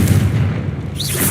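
A Confringo fire spell goes off in the Hogwarts Legacy video game inside a small mine, producing a loud, deep, rumbling boom that fills the short clip and fades into a brief whoosh.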